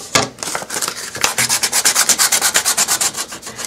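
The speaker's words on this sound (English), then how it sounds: "grab some sandpaper, and then all you're going to do is kind of distress it a little." Sandpaper rubs steadily over a painted wooden plaque to distress it, a close, loud scratchy back-and-forth in quick regular strokes after a few uneven opening passes.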